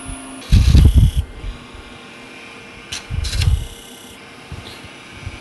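A power drill drives a screw into wood while building a mini birdhouse, sounding in two short whirring bursts separated by quiet.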